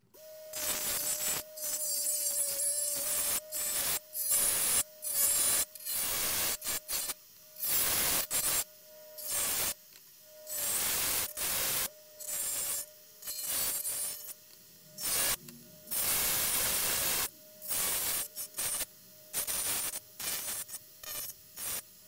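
Plastic flanges being shaved off an NES cartridge: many short, close bursts of scraping and grinding in an uneven rhythm over about twenty seconds, with steady tool noise and no talking.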